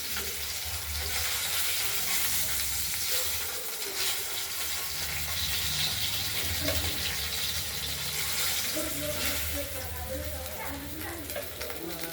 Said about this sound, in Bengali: মাছগুলো আমাদের ভাজা হয়ে গেছে মাছগুলো নামিয়ে নেবো